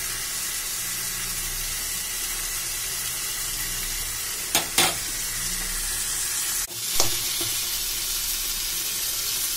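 Paneer bhurji with onions sizzles steadily in a frying pan, a continuous hiss of frying with a couple of sharp scraping stirs of a spatula midway.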